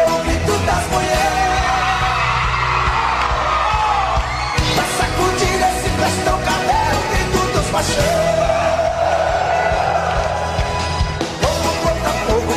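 Concert crowd at a festive show, with shouts and cheers rising over loud, continuous live music throughout.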